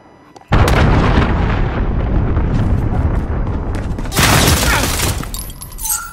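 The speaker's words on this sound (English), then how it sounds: "Allied cruise missile away." An allied cruise missile strike in Modern Warfare lands with a sudden loud blast, followed by a sustained rumbling roar and a second burst of debris and crackle near the end.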